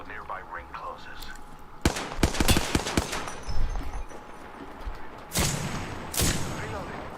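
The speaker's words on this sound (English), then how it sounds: "I am taking fire." Video game gunfire in Apex Legends, bursts of rapid shots and a few heavier single blasts mixed with game effects and character voice lines.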